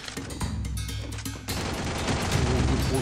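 A Thompson submachine gun in the game Free Fire fires in rapid, fairly soft bursts among other gunfire, sharp cracks crowding together after a brief pause midway, with a voice faintly underneath.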